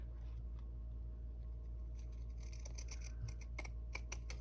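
Pinking shears cut fabric with a run of quick, crisp snips and scratchy clicks that grow denser toward the end, fairly quiet and close over a low steady background hum.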